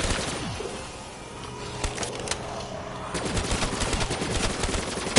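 Gunfire in the Black Ops 3 Zombies video game on the Kino map at round 50, a loud burst of game shots that comes back stronger toward the end over a constant background of game noise.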